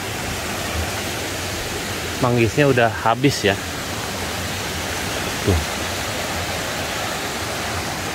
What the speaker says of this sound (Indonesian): terus ada air terjun